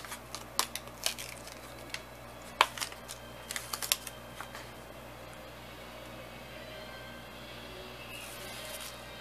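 Paper backing is peeled and pulled off double-sided sticky tape for a handmade A6 Christmas journal, heard as a quiet cluster of crackly ticks and rustles followed by a soft drawn-out tearing hiss.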